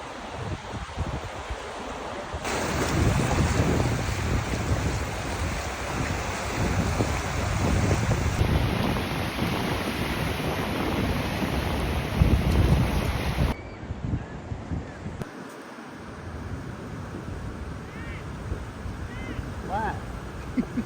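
At a beach, waves and strong wind buffet the microphone in a loud, continuous roar that shifts abruptly in level several times.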